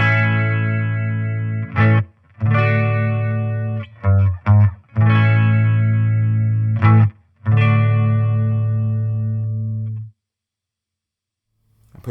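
Fender Champion 40 guitar amp with its chorus effect turned up, sustained chords shimmering and wavering, several held strums separated by short gaps, loud and close, with no talking.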